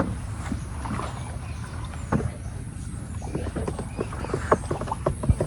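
A boat is rowed through a flooded jungle, with irregular paddle splashes and knocks against the hull over a constant watery background.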